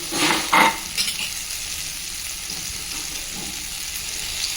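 Omelette batter poured into a hot pan and spread thin, with a steady sizzle and a couple of louder scraping strokes near the start, close and continuous with no talking.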